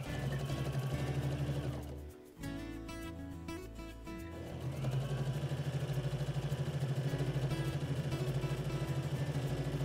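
A domestic sewing machine stitches fabric for a small maternity bag, its steady rapid needle hum running loud and close, pausing briefly before resuming at full speed.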